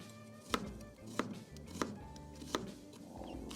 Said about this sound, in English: Using your knife to mash your garlic into a paste will help it to stick to the wings just a little bit better